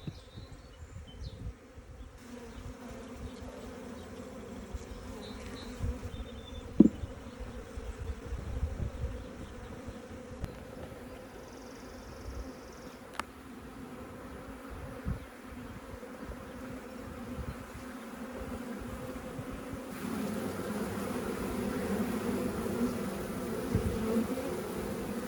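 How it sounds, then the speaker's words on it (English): A big honeybee swarm taking flight outdoors gives a steady, fairly faint drone of many wings, holding at an even level throughout with a few brief louder passes close by. "as anticipated, the swarm took flight."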